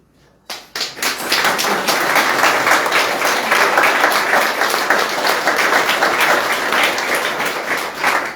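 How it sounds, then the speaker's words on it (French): Audience at an art exhibition opening gives the festival artists a warm ovation, dense sustained clapping that breaks out suddenly after a brief quiet start and carries on loud and close to the end. "tous nos artistes à qui nous pouvons faire une ovation bien méritée"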